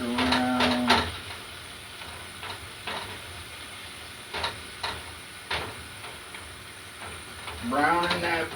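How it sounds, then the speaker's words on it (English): Ground beef browns in a pan with a soft steady sizzle, while a utensil scrapes and taps the pan now and then as the meat is stirred; a voice is heard at the start and end. "Browning that beef tonight."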